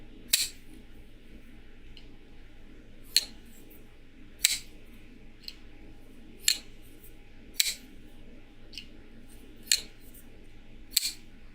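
Crisp mechanical clicks of a folding knife blade snapping open and shut, repeating at irregular intervals, close up and alone over a faint background hum.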